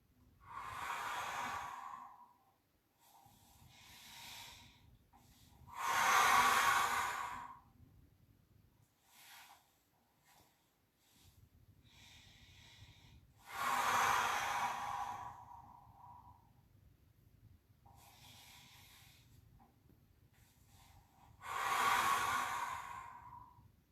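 Slow, deep breathing exercise for elderly people with reduced mobility: three loud, long exhales come at steady intervals, with quieter inhales and soft breaths between them, and no talking.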